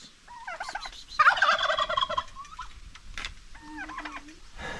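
Turkeys gobbling in a bursty chorus near a shop in the Philippines, with a loud close rattling gobble in the middle and further calls around it, no talk.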